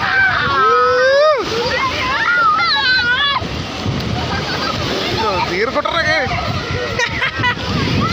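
Sea waves roll up and wash over the shore in repeated splashing surges, with excited voices talking loudly over the water throughout.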